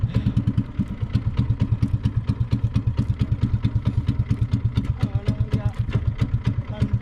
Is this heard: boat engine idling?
yes